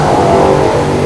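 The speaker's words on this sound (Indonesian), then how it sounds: "Ini motor berisik banget." Loud motorcycle engine revs hard and close, a continuous rough, noisy roar.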